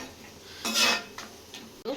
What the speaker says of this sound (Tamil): நல்லா கலக்கி விட்டுக்கிறேன்